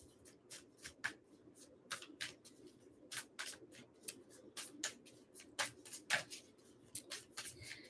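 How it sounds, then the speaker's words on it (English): Tarot cards being shuffled by hand, a quiet, close series of brisk papery riffles and slaps in an uneven rhythm, with no talking. "Getting a good shuffle in first here."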